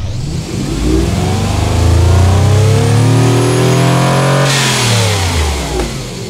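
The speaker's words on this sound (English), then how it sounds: "Look at those beautiful pistons, running safely, no stress, and making all this power." A powerful engine built in the car tycoon game Automation revs up hard, its pitch climbing and holding high for a few seconds before dropping back down; loud, close and alone without voices.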